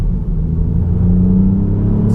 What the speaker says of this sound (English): sport mode makes the exhaust a little bit noisier